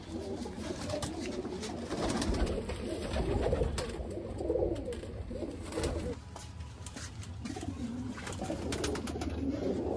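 Pigeons cooing close by in a group, soft throaty coos overlapping and repeating in an irregular rhythm over a low background rumble, with no talk.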